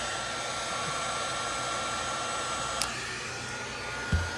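A cordless heat gun blows steadily while heating a Viper Professional heat cure plastic repair compound, a constant close airflow hiss with a couple of brief clicks near the end.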